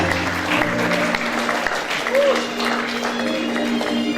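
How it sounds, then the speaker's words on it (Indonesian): Audience at a campus event in Bali clapping steadily for several seconds, a dense crowd of hands over a faint background hum, with a short tone briefly sounding partway through. "Boleh minta tepuk tangannya semuanya"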